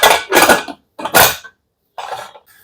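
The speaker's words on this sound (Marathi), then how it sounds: "आता मी कुकरला झाकण लावते." A pressure cooker lid is set on and fitted over boiling rice for sweet rice in a home kitchen, giving several short, close metallic clatters and scrapes separated by brief silences.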